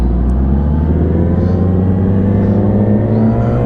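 A 2017 Yamaha R6 sport motorcycle fitted with an air shifter accelerates hard, a loud, close engine note climbing steadily in pitch without a break.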